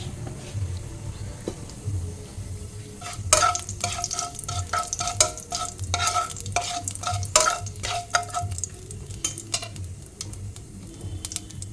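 Nigella seeds crackle and sizzle in hot oil, with rapid sharp pops bursting in clusters over a steady frying hiss and no talk.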